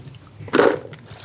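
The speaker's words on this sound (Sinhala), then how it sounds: "දැන් අපි බිලින් ටික සෝදලා පිරිසිදු කරගන්න යන්නේ" Bilimbi fruits being washed in water give one brief, close splash and slosh in the middle of an otherwise quiet moment.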